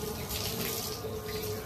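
Tap water runs steadily in a continuous stream as dog Angel is wetted down during a bath, filling the short stretch without any talking.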